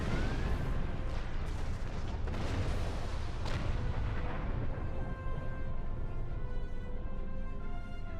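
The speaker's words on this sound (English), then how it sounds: "Ship is under attack." Starship under attack in the video game Star Trek Online: dense, continuous booming weapon fire and explosions roll on without pause, with sustained tonal ship hums and alarm-like tones threading through the loud, constant barrage.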